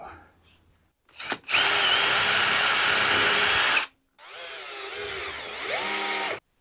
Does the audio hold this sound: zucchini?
no